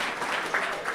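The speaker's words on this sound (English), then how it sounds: "big round of applause" Applause from an audience at a live radio show broadcast from a venue, a brief, dense burst of many hands clapping that stays fairly even and close for about a second.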